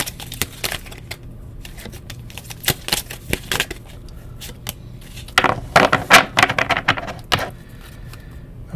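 Tarot cards are shuffled and pulled from a deck, with close, crisp flicks and riffling clatters in irregular bursts that are loudest near the end.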